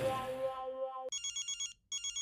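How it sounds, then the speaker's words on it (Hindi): A sustained tone fades out, then an electronic phone ring starts: rapid trilling bursts in a steady pattern, with a short gap before it resumes. "अरे मेरा फोन बज रहा है"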